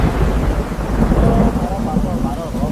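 A thunderstorm rumbles with heavy rolling thunder over steady rain, loud and close for the whole stretch.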